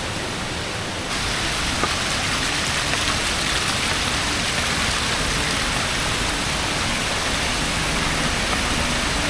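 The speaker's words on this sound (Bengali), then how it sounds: "রাস্তার ওপর দিয়ে ঝর্ণা।" A waterfall flows across the trekking path to Kedarnath, producing a loud, steady broadband rush of falling water, close by and unbroken throughout.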